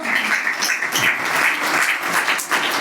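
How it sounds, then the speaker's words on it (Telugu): A church congregation claps together in steady applause, dense and sustained, with no voices heard. "చప్పట్లు కొట్టి దేవుణ్ణి మహిమపరచండి ప్రియులారా"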